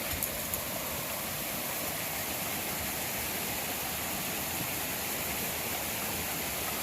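Fast-moving creek water rushes in a constant, dense broadband hiss with no change in level, heard close by on a hiking trail with no voices.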